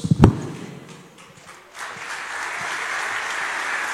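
Church congregation applauding after a healing prayer, a sharp burst of claps at the start, then a lull before a dense, sustained wash of clapping and cheering swells back in and holds steady.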